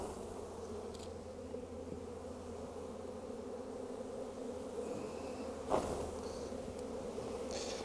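Honey bees shaken from a hive frame give a steady, moderate swarm buzz, with a few brief knocks and clicks over the continuous drone and no speech.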